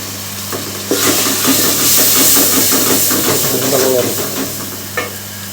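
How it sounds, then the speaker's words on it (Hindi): Tomatoes added to a pan of sizzling spices, chilli, turmeric and salt for a cluster bean curry, a loud burst of hissing sizzle and steam starting about a second in, with stirring clatter as it settles. "अब इसमें जाएंगे टमाटर"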